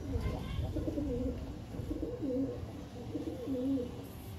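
A pair of military racing pigeons cooing close by in a loft, several soft, rolling coo phrases repeating in a steady rhythm with faint background noise.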